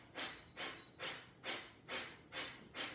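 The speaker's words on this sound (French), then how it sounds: "On peut prendre une respiration Kapalbhati sonore" Kapalbhati yoga breathing: seven sharp, forceful nasal exhalations in a steady rhythm, roughly two per second, close and fairly quiet with no talking.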